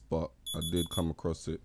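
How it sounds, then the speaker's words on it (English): A phone alarm on an HTC One M8 beeps in steady high tones behind someone speaking close to the microphone, starting partway through and continuing under his talk. "That's my alarm."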